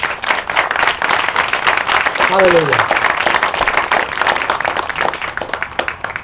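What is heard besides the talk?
church congregation applause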